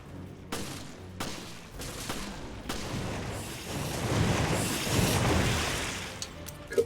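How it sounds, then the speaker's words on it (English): Gunfire in the Resident Evil: Revelations game comes as scattered sharp shots early on, then a dense rumbling volley of blasts and booms builds in the middle before easing, with a final crack at the end. "Don't stop shooting!"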